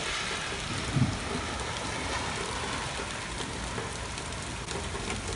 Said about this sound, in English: This is the rain in Fayetteville today, earlier.